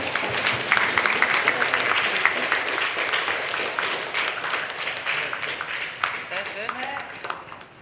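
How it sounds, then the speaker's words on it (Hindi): A crowd claps steadily for several seconds at a convocation ceremony in an auditorium, a dense patter of applause from a room full of people with faint voices underneath. "हम तालियां बजाकर"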